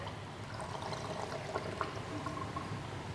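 Engine coolant poured through a funnel into the cooling system of a 2015-2017 Yamaha YZF-R1 sport motorcycle, a steady, soft liquid trickle and gurgle running throughout at close range with no talking.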